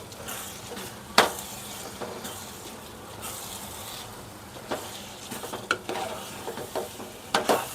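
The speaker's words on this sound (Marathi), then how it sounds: "हे ना असं चांगलं असं फ्राय करून घ्यायचं व्यवस्थित" Ingredients for prawn pulao, with optional ghee, fry in a pan: a steady close sizzle with occasional spatula scrapes and light utensil clinks, no voices heard.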